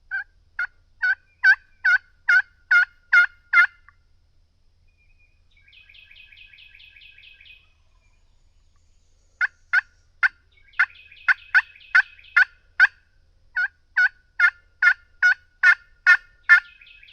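Osceola wild turkeys in a South Florida swamp gobble in loud, rapid rattling bursts, repeated over and over with short pauses, alongside a softer high chattering call.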